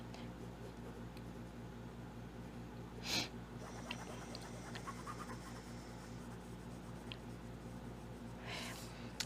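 Colored pencil scratching across fabric in soft, quiet strokes with a faint papery rasp, broken by a couple of brief louder rubs, over a low steady background hum.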